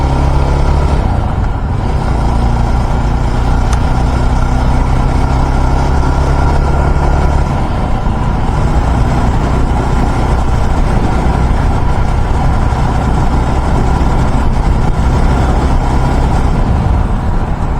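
A loaded lorry's engine idles in stopped traffic on an expressway, a steady, loud, low rumble that stays continuous with no talk over it.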